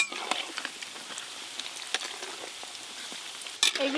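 Batter-coated cauliflower popcorn pakora fries in oil with a dense crackling sizzle full of small sharp pops, ending in a louder clatter of stirring near the close, with no voices.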